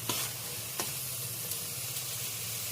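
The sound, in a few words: stirring boiled cabbage mash in a pan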